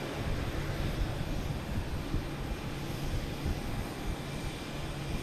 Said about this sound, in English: They're taking off and landing on the same runway, side by side, all over the place here.